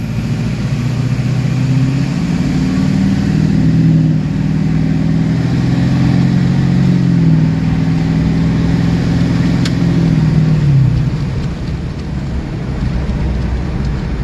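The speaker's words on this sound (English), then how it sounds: "Try to do a little wide open throttle here." An LBZ Duramax diesel truck with an S&B cold air intake revs at wide open throttle, its engine roaring and climbing in pitch for several seconds before easing off to a lower rumble.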